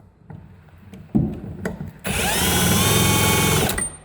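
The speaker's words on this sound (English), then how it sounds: "So if I bring it up to the 2, it'll go a little bit faster" An electric drill on its second speed setting spins a car alternator, a few knocks and rattles first, then a loud, steady high whine for about a second and a half before it winds down.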